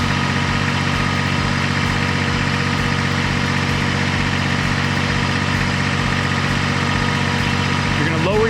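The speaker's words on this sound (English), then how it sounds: "So you want to start with the backhoe in its normal position with the tractor running." Kubota BX23S compact tractor with backhoe attachment idling steadily, a continuous low engine drone with even mechanical hum throughout, close and loud with no pauses.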